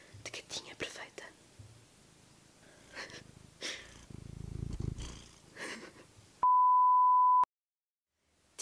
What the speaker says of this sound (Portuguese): E ver esta beleza, estes olhos, ouvir este ronron perfeito.